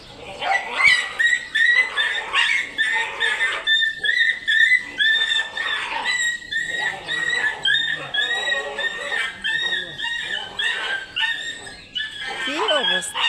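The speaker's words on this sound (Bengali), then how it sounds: "কুকুরগুলো মারামারি লাগছে।" Several dogs fight, snarling, yelping and barking in rapid overlapping bursts close by, loud and continuous, with a high whimpering cry near the end.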